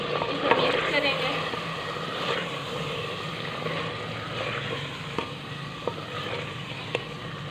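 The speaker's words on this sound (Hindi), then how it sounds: "इसे मिक्स करेंगे" Chicken korma with spices is stirred in a hot pan, a continuous sizzle and frying crackle under scraping spoon strokes, with a few sharper taps of utensil against the pan, close by and without speech.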